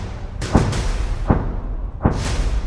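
Mortar rounds fire in a series of three sharp booming reports roughly three-quarters of a second apart, each a sudden thud over a continuous low rumbling background.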